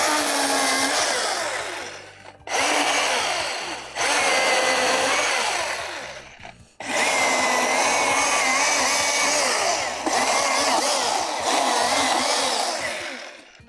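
A cordless brushless Milwaukee M18 electric chainsaw cuts tree logs into firewood lengths, its loud whining motor revving through several long cuts separated by brief pauses.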